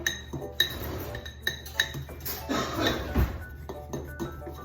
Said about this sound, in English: Okay, you keep stirring.